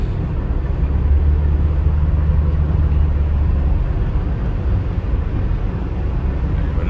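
2008 Jeep out on the road, cabin filled with a loud, constant low rumble of engine and tyres, steady for the whole stretch with no voices.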